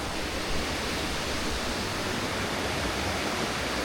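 Ward Creek in Alaska flowing out of Ward Lake, a steady, dense rush of water, loud and continuous, with no voices.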